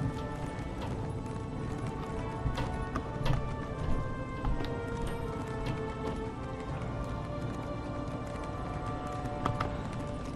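Horse hooves clopping in a steady galloping rhythm while riding in an Elder Scrolls video game, dense and continuous under a busy layer of game ambience, with no talking.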